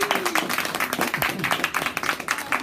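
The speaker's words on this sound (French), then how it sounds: "Est-ce qu'on peut t'applaudir?" Audience applause after an anti-bullying presentation, a steady patter of many hands clapping throughout, with scattered voices talking over it.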